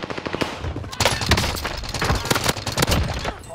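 Loud, rapid automatic gunfire from a video game, with dense bursts of shots running through the whole stretch. Faint voices are mixed underneath.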